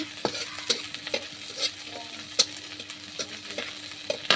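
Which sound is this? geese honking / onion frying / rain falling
onion frying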